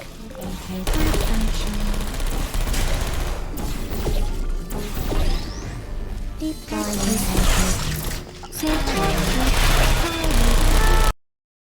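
Gunfire from turrets in the Portal 2 video game, loud rapid bursts and crashing impacts layered over game music and mechanical noise, dense and close throughout.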